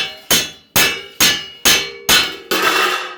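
A hammer strikes a handmade cymbal six times in a steady rhythm. Each blow gives a loud, bright metallic clang that rings and decays before the next. The last strike rings longer and denser. No voices.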